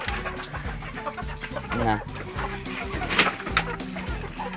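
Chickens cluck repeatedly and close by in a backyard coop setting, with overlapping bursts of clucking and squawks and a person speaking briefly among them.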